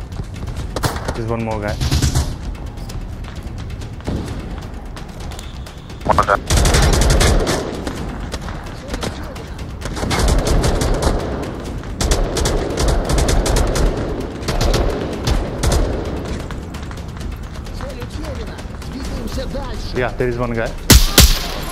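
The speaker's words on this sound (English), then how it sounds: "Someone is shooting." Bursts of gunfire, including rapid automatic fire, crackle through a VR shooter battle in Onward, with several loud volleys spread across the clip while players talk briefly between them.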